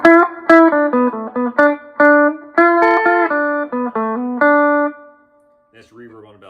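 Distorted electric guitar on the bridge humbucker plays a quick run of picked notes and chords through an Orange Crush 20RT practice amp, ringing out before fading into a faint voice.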